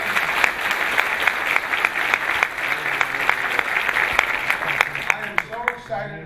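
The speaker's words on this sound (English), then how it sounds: "Let's give him a round of applause." An audience at a government infrastructure announcement applauds steadily with dense clapping that carries on for several seconds before thinning out at the end.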